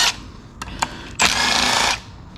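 Brief bursts of a power ratchet or impact driver backing out 8mm bolts on a 4L80E transmission, two short clicks followed by a longer whirring run, close and loud.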